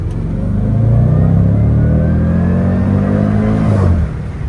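A car engine revs up loudly and close by, holding a strong rumbling roar for several seconds before dropping off.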